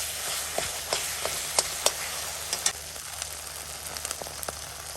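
Spices sizzle and fry in hot oil for a Bengali duck curry, a steady crackling hiss with scattered sharp pops and occasional stirring, close and continuous with no voices.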